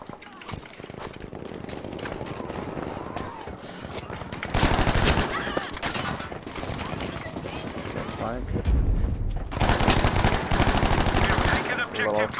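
Rapid automatic gunfire from a Battlefield 5 match, loud bursts of machine-gun fire recurring over twelve seconds with a voice talking between and under the shots.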